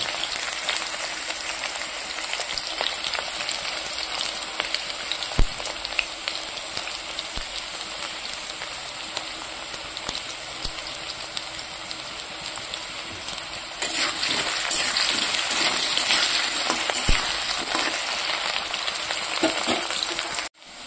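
Potatoes frying in a pan for a dish with shingi fish, giving a continuous close, steady sizzle that grows louder and denser partway through, with no talking.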